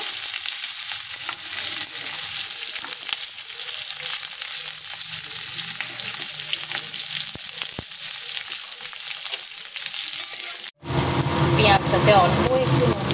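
Onions frying in a pan with cumin and crushed whole garam masala for a keema chana masala, a steady loud sizzle with stirring that cuts out abruptly near the end, followed by a different burst of noise.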